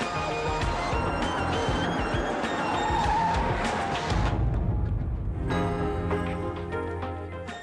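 A car on a city street slows to a halt with a long tyre screech and skidding squeal over engine noise, followed by a softer idle with music-like tones layered in, sounding close and loud.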